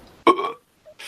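A voice imitates a single loud belch, as if after drinking beer, lasting about a third of a second, close and alone after a short murmur, then quiet.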